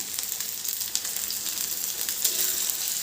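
Onion frying in a pan for a Khandeshi green cowpea chutney gives a steady, close, hissing sizzle that continues without a break.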